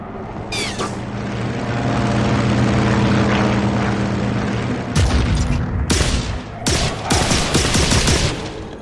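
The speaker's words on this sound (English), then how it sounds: "Here comes the plane again." A propeller plane roars overhead in The Darkness video game, its loud drone building and then giving way to bursts of gunfire and booming blasts in the second half.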